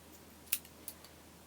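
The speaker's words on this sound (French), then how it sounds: "Et là, on peut couper notre fil." Scissors snip crochet yarn in a quiet room: two or three small, crisp clicks in quick succession, faint and close.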